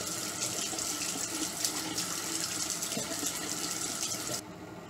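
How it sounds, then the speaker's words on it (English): Running water from a sink tap splashes steadily and close while someone washes their face with CeraVe Cream to Foam Cleanser, the flow stopping abruptly near the end. "So I'm going to wash my face with the CeraVe Cream to Foam Cleanser."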